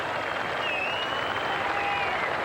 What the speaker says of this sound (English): he'll lead to a nice round of applause